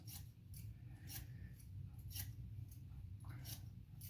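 Scissors trimming hair during a medium-high tapered haircut, rapid repeated snipping clicks in short bursts over a soft steady background hum, close and quiet.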